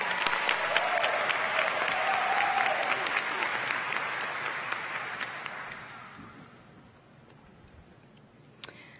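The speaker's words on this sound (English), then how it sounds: "Let's give them a round of applause." An audience at a nursing commencement ceremony applauds in a broad, steady wash of clapping that slowly thins out and fades over several seconds, followed by a single sharp knock near the end.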